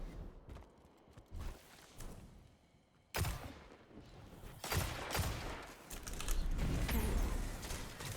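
Hand cannon shots in a video game boom out one at a time, with heavy, spaced reports among mechanical clicks and creaks over a dense game mix that grows louder toward the end.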